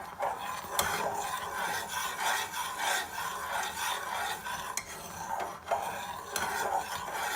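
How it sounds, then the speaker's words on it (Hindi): A spoon scrapes and stirs steadily through milk bubbling in a metal pot as it cooks down into condensed milk, a continuous close rasping with regular strokes and no talk. "ये देखिए दूध में जो है वो बबल्स आना शुरू हो गए हैं। इसको हम लोग बस चम्मच चलाते जाएंगे।"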